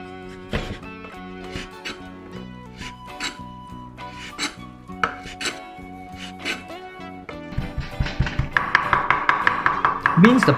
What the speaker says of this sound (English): Cut the scallions into thin rings.